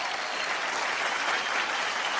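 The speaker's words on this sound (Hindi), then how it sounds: "मैं चाहूंगा कि इन सब लेजेंड्स के लिए एक बार जोरदार तालियां" A studio audience at a comedy show breaks into loud, sustained applause, a thick, even roar of many clapping hands with no voices above it.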